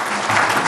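A live audience applauds a talk in Maryland, giving a short, dense burst of clapping that sounds close and fairly loud.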